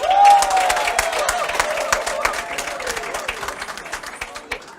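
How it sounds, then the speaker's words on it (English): An audience at a women's event claps together in a burst of applause that starts strong and tapers off, a dense patter of hands with some light cheering and a voice briefly over it. "please give yourself a round of applause"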